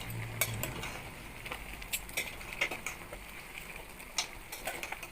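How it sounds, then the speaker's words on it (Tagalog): A spoon stirring crab simmering in coconut milk soup in a pot: faint, irregular clinks and scrapes against the metal over a soft bubbling background, with no talking. "Kumulo na ulit guys yung ating sabaw at ngayon haluin na natin guys."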